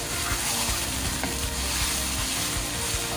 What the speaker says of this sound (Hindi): तो ये अब कीमा हमारा चला गया इसके अंदर, हल्का सा भून गया है